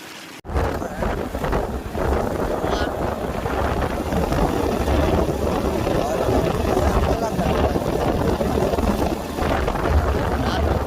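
A motorcycle engine runs steadily at the start of a journey in Bastar, its drone mixed with heavy wind rush throughout, loud and continuous after a brief silence at the very beginning.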